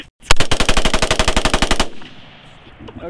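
Rifle fitted with a bump stock firing: a rapid, evenly spaced burst of about fifteen loud, sharp shots in under two seconds, followed by a fading outdoor echo and quiet.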